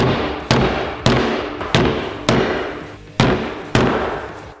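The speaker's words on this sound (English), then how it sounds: "let's try to hit it with the hammer" Seven sharp, loud hammer strikes land at a steady pace on a glove frozen in liquid nitrogen, hard and brittle, each crack ringing briefly before the next.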